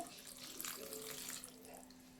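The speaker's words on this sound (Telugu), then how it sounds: "ఇప్పుడు ఒక గ్లాస్ వాటర్ని అయితే యాడ్ చేసుకుందాము" A glass of water poured into a brinjal and potato curry in a pan, a steady close splashing pour lasting about two seconds with a faint hum underneath.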